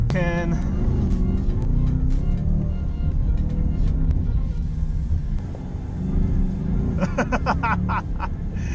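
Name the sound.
sports car engine in first gear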